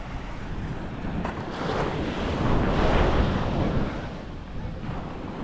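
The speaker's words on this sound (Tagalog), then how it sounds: "Yan, kalmang dagat." Calm sea waves wash steadily on open water, a broad continuous surf hiss swelling slightly in the middle, with wind buffeting the microphone throughout and no voices.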